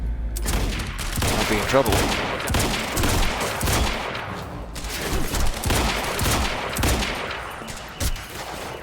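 Sustained bursts of gunfire from the video game Quantum Break, loud and continuous with repeated shots and booms, while a player talks over the action.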